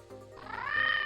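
A single rising cartoon cat meow from the Office 2000 Kitty assistant, short, clear and close, with no talking over it.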